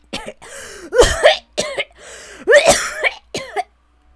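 A woman's painful cough follows insane laughter, performed in audiobook narration of Umineko no Naku Koro ni: several harsh, close bursts in uneven clusters, loud and dry, ending in silence.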